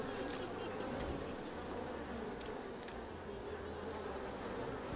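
A dense swarm of bees buzzes steadily and continuously throughout a villain's lair in the video game Evil Genius 2, a constant droning hum with no talk over it.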